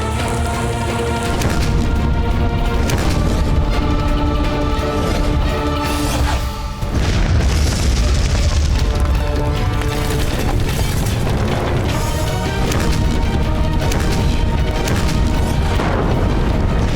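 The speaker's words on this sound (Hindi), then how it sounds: "देखिए कैसे आग उगल रही हैं अकबर की तोपें" Dramatized cannon fire from Akbar's artillery bombards Chittor fort in a continuous, loud barrage of booming blasts and rumbling under dense, layered battle sound effects throughout.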